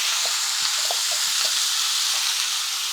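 Onions fry in hot oil for an egg fry. A dense, loud, continuous sizzle is heard up close, broken by a few soft stirring scrapes.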